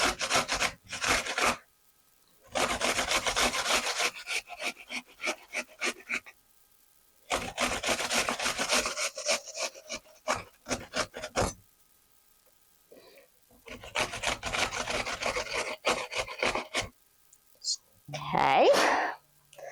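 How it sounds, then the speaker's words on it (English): Small snow apples are rubbed by hand across a grater, giving close, rasping bursts of rapid scraping strokes separated by short pauses. "Then I'm going to grate 2 little apples."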